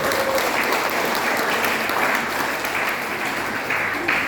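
Congregation applause at a Sunday church service welcoming a visiting women's fellowship group, steady dense clapping from a crowd filling the room, continuous and fairly loud throughout with no letup.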